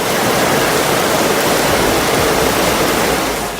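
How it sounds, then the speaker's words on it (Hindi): Floodwater rushing loudly and continuously through the streets of Abidjan, Ivory Coast, after a week of torrential rain, a dense roar with no breaks and no voices. "शहर में इतना पानी भर गया है कि सब कुछ पानी में तैर रहे हैं।"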